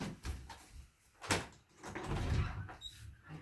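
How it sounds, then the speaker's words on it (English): A door is unlocked and opened indoors, heard as soft clicks, a sharp clack and a muffled sliding rattle, faint and close with no talking. "So I'm going to unlock the door for him right now."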